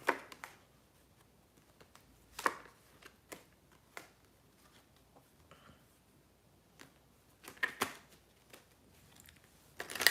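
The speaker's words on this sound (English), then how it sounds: "Let me shuffle my cards." A deck of tarot cards is shuffled in quiet, soft bursts of riffling and tapping, close and faint, with pauses of near silence between handlings.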